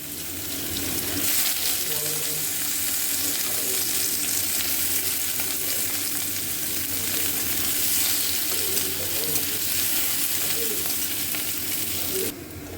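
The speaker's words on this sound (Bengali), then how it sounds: "পেঁয়াজটা ভাজা হয়ে গেছে।" Onion frying with cumin seeds in a pan for a red lentil dal, a steady close sizzle with faint stirring scrapes running throughout, no talk.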